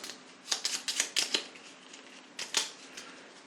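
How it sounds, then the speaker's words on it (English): Warhammer Quest game cards are given a quick close shuffle, a run of crisp riffling flutters followed by a second shorter burst, with no talking. "Let's give that a quick shuffle."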